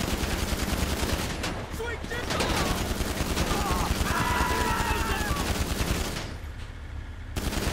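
Sustained automatic gunfire from a Gun Running mission in GTA 5 Online, rapid bursts crackling almost continuously for several seconds, loud and dense with short gaps near the end.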